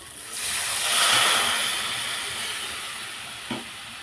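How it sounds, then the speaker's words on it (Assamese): Water hits hot fried spice masala in a pan and sets off a loud hissing sizzle that swells quickly, then slowly fades away, ending with a short clink. "পানীখিনি দি দিওঁ।"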